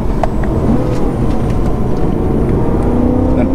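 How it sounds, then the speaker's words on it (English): A supercharged BMW E90 M3 drives hard on a back road, its engine a steady loud droning roar heard from inside the cabin, with a rising whine building toward the end. "punching it coming out of the turns"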